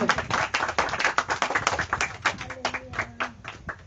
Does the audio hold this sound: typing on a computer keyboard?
no